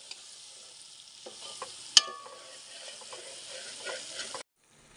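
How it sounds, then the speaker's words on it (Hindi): Spices stir-fried in a pan give a soft continuous sizzle with scraping spatula strokes and one sharp metallic clink partway through, then the sound stops abruptly. "अभी दादू माँ अच्छे तरीके से मसाले को भून लेंगे।"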